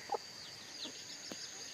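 Chickens in a free-range farm coop cluck in a few short, faint bursts, scattered across a quiet background with no voices.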